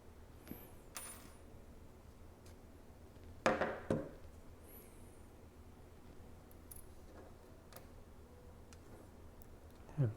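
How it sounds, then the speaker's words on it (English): Phone SIM card tray popped open with an ejector pin, a couple of faint small clicks and a light metallic tick over a quiet room background, with another soft click at the very end. "with the SIM card ejector pin that's provided"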